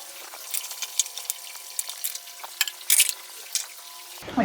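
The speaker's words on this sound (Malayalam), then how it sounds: "ഇടയ്ക്കിടയ്ക്കൊന്ന് ഇളക്കി കൊടുത്ത് അടി പിടിക്കാതെ നോക്കണം." Beef fry cooking in a pan while being stirred: a soft steady sizzle runs throughout, broken by scraping clicks and clatters of the spoon against the pan at irregular intervals, close and clear.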